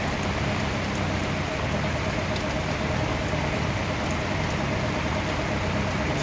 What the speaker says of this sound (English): Off the canal, Darrell, here in the rain, making sure the boat's okay